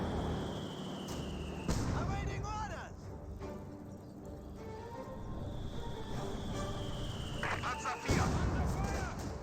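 Mortar shells and gunfire boom through a Company of Heroes 2 battle, with several heavy impacts near 1.7 and 8 seconds over continuous rumbling combat noise, while a voice talks throughout.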